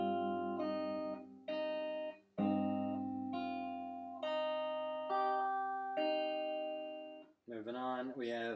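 Fingerstyle acoustic guitar playing a short passage of a song, picked notes and open strings ringing in a steady sequence of plucks, close and clear, followed by a brief spoken voice at the end.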